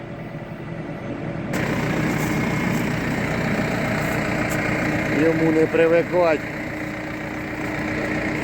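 A Don combine harvester engine runs steadily while threshing soybeans, a loud continuous mechanical drone that persists under someone speaking nearby.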